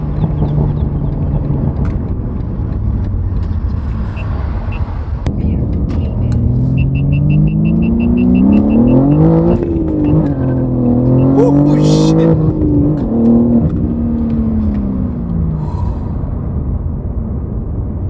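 Loud BMW G80 M3 engine revving up and down with a raspy exhaust roar through an AWE Switchpath exhaust and high-flow catted downpipes, close by and sustained, with a few squeaks over the top.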